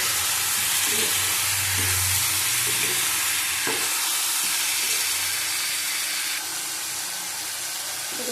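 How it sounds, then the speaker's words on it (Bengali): Live rohu fish sautés in a pan for a thin curry with potatoes and ridge gourd, giving a loud, close, continuous sizzling hiss that runs steadily throughout with slight stirring movements. "পাতলা ঝোল হবে জ্যান্ত মাছে কষিয়ে নেব"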